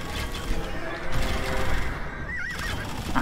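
Horse archers in Age of Empires II neigh and whinny sharply, with hooves clopping over the game's battle sounds; one shrill whinny stands out near the end.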